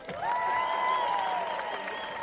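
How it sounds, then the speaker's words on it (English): Crowd cheers and applause at a Commonwealth Games lawn bowls semi-final, a steady wash of clapping and raised voices that continues without a break. "Give it a cheer if you're from England."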